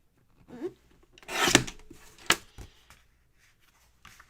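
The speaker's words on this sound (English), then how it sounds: "so let me just trim that ragged edge" Trimming a torn, ragged edge makes a few quiet, brief rasping cuts and rubs, separated by short pauses, with no voices present.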